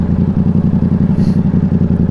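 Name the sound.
Yamaha R7 motorcycle exhaust popping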